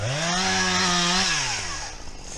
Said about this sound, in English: playing with chainsaws is fun